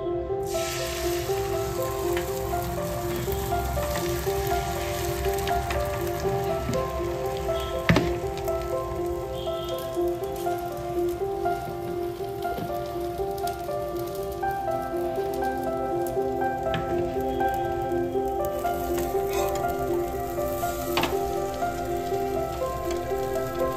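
Egg paratha frying in hot oil, a steady close-up sizzle and crackle with no talk, holding evenly for about twenty-four seconds.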